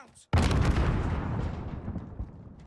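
A frag grenade goes off in Call of Duty, one sudden loud blast that cuts in after a brief hush and rumbles away slowly over the next couple of seconds.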